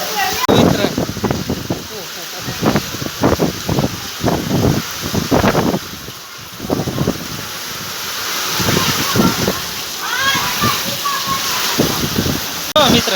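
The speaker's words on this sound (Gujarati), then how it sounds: "વાવાઝોડું આવી ગયું મિત્ર જો જોરદાર વાવાઝોડું" A heavy monsoon storm with wind and rain rushes steadily in a village, a broad wash of noise running under someone talking excitedly close to the microphone.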